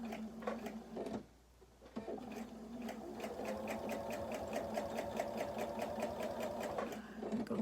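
A sewing machine stitching binding onto a quilt runs in a fast, even needle rhythm, pausing briefly near the start before resuming steadily, close and clear with no talk.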